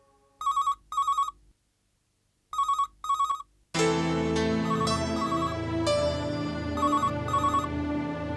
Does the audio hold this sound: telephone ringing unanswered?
yes